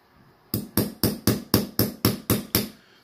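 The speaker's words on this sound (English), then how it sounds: "using this hammer steel to hit the punch, rubber to hit the actual link back into the bracelet" Small steel hammer tapping a pin punch into the link of an Invicta Pro Diver Scuba 28456 watch bracelet: nine sharp metallic taps in an even, quick rhythm, close and clear, with no voices.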